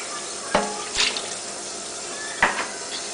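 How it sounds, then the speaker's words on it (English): Water runs from a sink tap over a homemade wheatgrass growing kit, a steady rush broken by a few louder splashes and knocks as the tray is rinsed. "I can give this a good rinse this way while it's growing"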